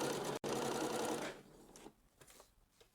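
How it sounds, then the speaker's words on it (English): A sewing machine runs close up as it stitches bias binding around a garment edge, a loud continuous whir with a brief stutter, then slowing and stopping into quiet handling sounds. "So we're going to sew all the way around basically"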